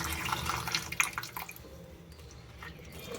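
Water splashes and drips as carrot pieces are rinsed, busy sloshing at first, then settling into a quieter, steady trickle.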